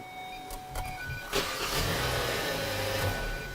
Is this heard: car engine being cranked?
yes